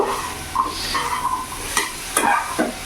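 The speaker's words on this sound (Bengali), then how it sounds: "এবার ভালো করে আমি নাড়াচাড়া করে নেব" Chole, a chickpea curry, being stirred in a pan over a gas flame, with a soft sizzle and scraping strokes of the spoon against the pan recurring every half second or so, close and moderately loud, no talking.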